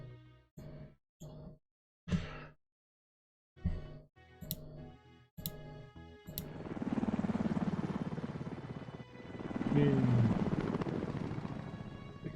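Six helicopters in the SuperPower 2 strategy game build into a loud, steady rotor roar that swells and holds, after a few scattered clicks and short game sound effects.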